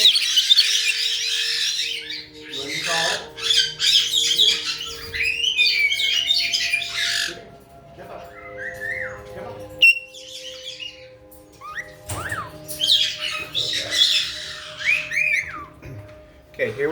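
Several pet birds loose in a room squawk, chirp and whistle loudly and almost continuously, in bursts of shrill calls with brief lulls, close by.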